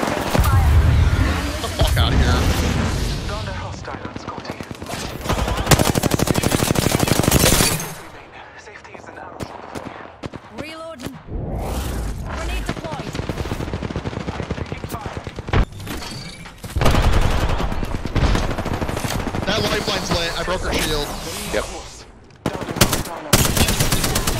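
Loud bursts of automatic gunfire in the Apex Legends shooter game, heavy rapid volleys interspersed with thuds and quieter stretches, with people talking over some of it.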